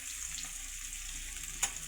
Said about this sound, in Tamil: தக்காளியை போட்டு நல்லா வதக்குங்க